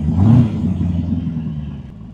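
Cold Boss Hoss motorcycle with a 5700 cc Corvette V8 engine idling and revved gently to about 2000 rpm; a loud, close, deep rumble that swells briefly, then settles into a steady throb with no talking.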